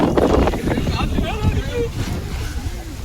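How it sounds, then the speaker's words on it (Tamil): Strong wind gusts buffet the microphone outdoors at night near an abandoned house, a loud, continuous low roar with rumbling bursts and faint voices underneath. "காத்து வேகமா அடிக்கு."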